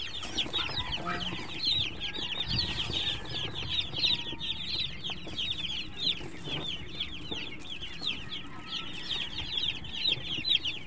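Young chicks cheep steadily in a chorus close by while feed is scattered over the floor of their brooder, a dense, continuous high chatter from start to finish with no talk over it.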